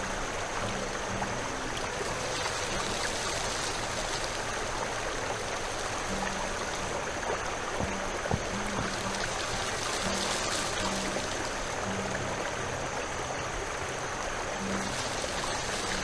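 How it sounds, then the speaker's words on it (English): A swift, cold brook babbles steadily in the adventure game The Night of the Rabbit, a dense, continuous rush of flowing water heard alone, close and even throughout. "A swift, cold, heavily babbling brook."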